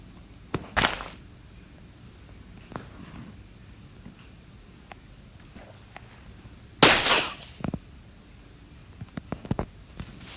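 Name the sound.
creeper cannon explosions in Minecraft video game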